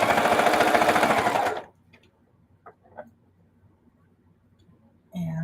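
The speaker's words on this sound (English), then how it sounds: "I'm just going to finish sewing that together." A sewing machine stitches a quilted casserole pad in a loud, steady whirring run that stops after about a second and a half. Faint ticks and small handling noises follow in near quiet, then a voice starts speaking at the very end.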